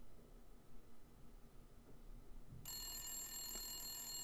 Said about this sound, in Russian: тишину моего дома разрушила резкая трель телефонного звонка